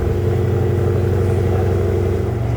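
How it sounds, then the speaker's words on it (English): A new Porsche GT3 RS engine idling steadily after its first start, a loud, close, even drone with a smooth low hum and no audible voices. "I think it sounds pretty nice for a car as new as this"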